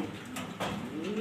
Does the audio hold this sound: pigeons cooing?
yes